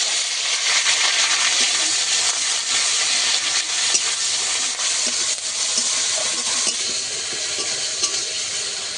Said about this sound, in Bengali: পাঁচ ফোড়ন করে ভাজা হয়ে গেছে দিয়ে দেবো বেটে রাখা পেঁয়াজ